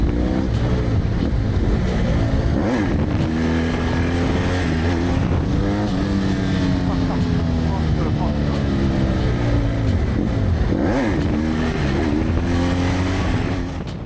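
Close, loud engine of a BMW F800 motorcycle held up on its rear wheel in a wheelie, a steady droning roar whose pitch rises and falls with throttle changes throughout, continuous with no break.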